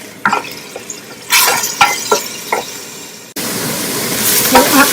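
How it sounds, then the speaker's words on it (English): Onion and garlic hitting preheated oil in a home kitchen pan, a bright hiss that flares in bursts with stirring clatter, then settles into a steady loud sizzle. "I'm gonna add onion and garlic and cook that until the onions translucent and garlic brown."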